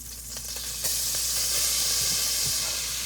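Butter melting in olive oil in a frying pan gives off a steady, loud sizzle and hiss, with a few faint pops and crackles rising out of it throughout.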